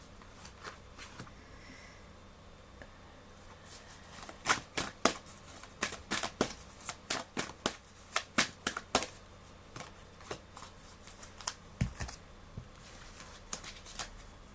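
Tarot cards are handled and laid down in a series of crisp, close snaps and flicks. The taps come in irregular bursts and sit over a quiet room tone.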